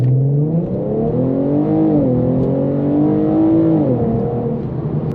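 An Infiniti Q50S accelerates hard through the gears, its engine note climbing steadily in a loud, continuous rev, then dropping at each upshift near 6,500 RPM before rising again, with no talking over it.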